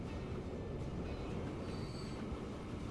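Trains running on rails in the Transport Fever 2 video game, a steady dense rumble of rolling wheels with faint squeals, continuous and alone.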